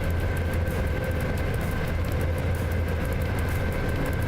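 Steady, loud rumble of a locomotive driving in SimRail, a continuous low engine drone with rail noise and a faint tonal whine, unbroken and close throughout.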